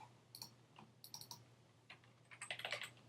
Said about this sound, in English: You type in the new name and hit return or enter